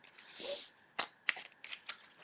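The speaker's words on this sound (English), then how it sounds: "I'm just going to fan them and pull one" A brand-new deck of cards fanned out by hand: a soft papery riffle swish, then several sharp, separate flicks and snaps as stiff cards catch, close and quiet.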